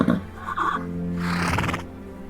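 A horse whinnies in a single drawn-out, wavering neigh, loud and close, rising to a bright peak before trailing off.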